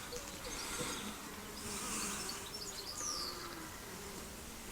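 Honeybees buzzing at a top bar hive during an inspection, a soft continuous drone with individual bees passing close, faint birdsong in the background and no talk.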